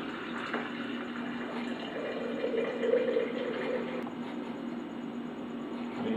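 Scotch ale draining from a homebrew vessel, a steady trickle and splash of liquid running continuously at close range with no talking.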